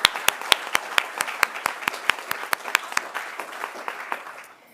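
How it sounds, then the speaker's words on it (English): Audience applause at a student union excellence awards ceremony, a steady run of sharp claps with several standing out close by, carrying on for a few seconds and then thinning out at the end. "So can I have a round of applause for Ken Turner, who is highly commended?"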